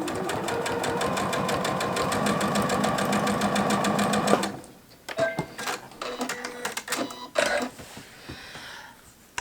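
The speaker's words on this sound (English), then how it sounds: "I'm gonna sew right sides together, these two pieces right here" A sewing machine stitches two pieces of quilting fabric together with a fast, steady mechanical whir for several seconds, then stops, followed by scattered clicks and handling noises.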